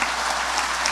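A church congregation applauding during a Portuguese-language worship service of testimonies, a brief, steady wash of many hands clapping with no voices above it.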